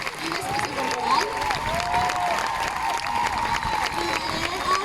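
An audience at a dance school's International Dance Day celebration claps and cheers steadily throughout, a dense wash of applause with shouts and voices mixed in.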